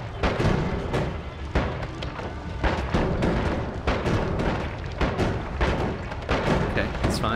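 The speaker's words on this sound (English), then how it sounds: "Ooh, things are exploding." Repeated booming explosions from the Noita video game, heavy thuds and bursts going off every half second or so, loud and irregular.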